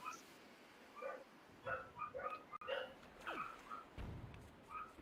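A dog barks in the background, several short sharp yaps and whimpers coming and going at low level, mixed with faint talk during a game stream.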